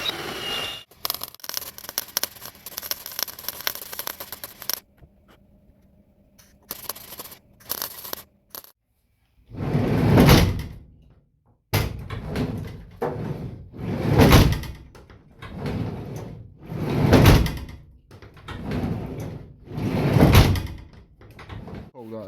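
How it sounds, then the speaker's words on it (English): Volkswagen T4 van sliding door on a freshly repaired, re-welded track, rolled open and shut several times: rhythmic loud scraping, rumbling slides each ending in a thud, after quieter clinks and handling noises. "the door should slide in and out perfectly"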